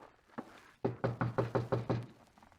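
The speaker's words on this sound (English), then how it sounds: "We better knock." Knocking on a door in a radio drama: a single tap, a short pause, then a steady run of six firm, evenly spaced raps, close and clear, with no talk over them.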